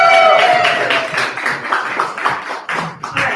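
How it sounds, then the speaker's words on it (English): A conference audience at a live product launch claps for a presenter, close and fairly loud, with dense overlapping hand claps that hold steady for a few seconds and then start to taper off. "One more round of applause for Jared."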